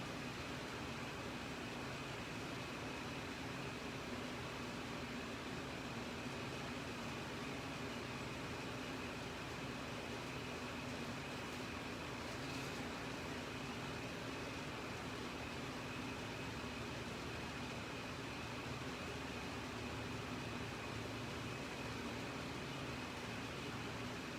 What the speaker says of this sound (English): So I do use my blow dryer a good bit